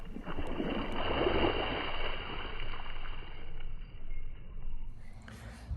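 Water splashing during backyard water play with a young girl and her father, a loud burst of sloshing and spattering that eases and then flares briefly again near the end, with no talking.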